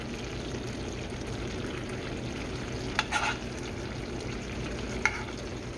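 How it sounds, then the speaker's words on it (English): Butter melting in a pan on the stove, a low steady sizzle and bubbling with two brief scraping stir sounds, close and without talk. "So all the butter is melted inside the pan."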